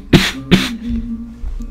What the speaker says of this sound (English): Sun tries to hide a sneeze and a cough under her breath.